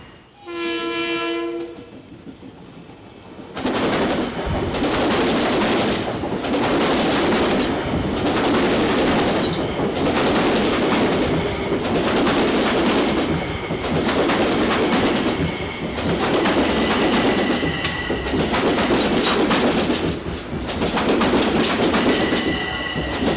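A Long Island Rail Road train on the Port Jefferson branch at Hicksville sounds a loud multi-tone horn, then thunders past close by with a steady, rhythmic clickety-clack of wheels over rail joints and faint squeals.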